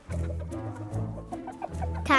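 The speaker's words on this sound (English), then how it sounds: "Time to feed the chickens." Chickens cluck loud and close in a quick run of short, repeated throaty bursts that continue without pause, with no talking.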